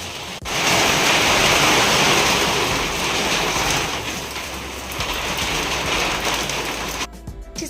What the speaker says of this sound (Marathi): पाऊस येतोय बघा